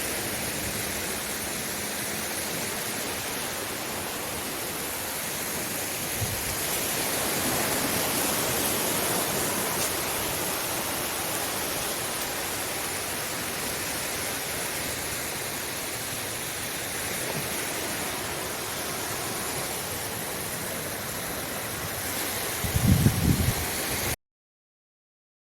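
Sea waves roll in at high tide on Qurum Beach, Oman, giving a steady wash of surf that swells in the middle. Near the end a brief low thump is heard before the sound cuts off.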